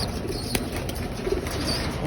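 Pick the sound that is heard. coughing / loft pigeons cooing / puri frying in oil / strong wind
loft pigeons cooing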